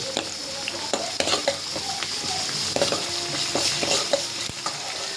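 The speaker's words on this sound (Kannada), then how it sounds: "ಸೊ ಇಷ್ಟೆಲ್ಲ ಹಾಕಿ ಚಲೋ ಫ್ರೈ ಮಾಡ್ಕೋಬೇಕು ಫಸ್ಟ್" Curry leaves, onion and ginger-garlic paste frying in a pan for a North Karnataka-style dish, with a continuous close sizzle and repeated scraping and clinking of a spoon stirring against the pan, with no talking.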